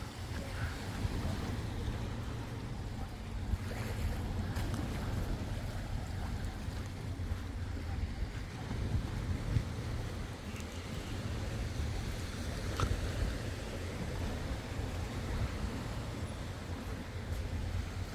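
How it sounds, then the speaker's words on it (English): Waves wash steadily along the beach at a Playa del Carmen resort, a constant low surf roar mixed with wind rumble on the microphone, continuous and fairly near, with no talking. "Here's the beach area right here."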